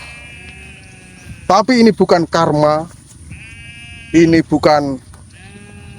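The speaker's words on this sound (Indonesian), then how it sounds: "suara kambing di perkampungan" Goats bleat loudly and nearby in a village, giving a cluster of quavering cries and then a second shorter group, while a person talks over a faint steady hum.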